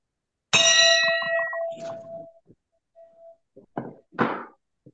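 A single bell struck once with a bright ringing tone that decays over about two seconds, followed by a few faint knocks and clunks in an otherwise quiet room before a meeting starts.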